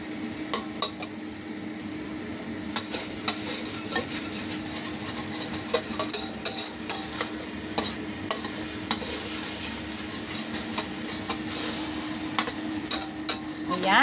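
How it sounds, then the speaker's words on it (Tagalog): Sardines sizzle softly in a pan while a utensil stirs and scrapes with scattered clinks and taps, close up and fairly quiet. "Medyo iprito-prito natin ng kaunti yung sardinas"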